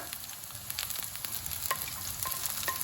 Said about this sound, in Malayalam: ഇനി നമ്മൾ നമ്മുടെ സവാളയും ക്യാപ്സിക്കവും എല്ലാം അങ്ങ് ഇട്ട് കൊടുക്കുവാണ്